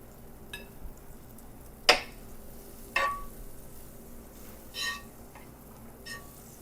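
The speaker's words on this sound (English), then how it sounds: "And that's sizzling up because I got the temperature right this time." Butter sizzles in a hot pan while French toast is made, a steady faint frying hiss broken by a few sharp clinks of a utensil against the pan.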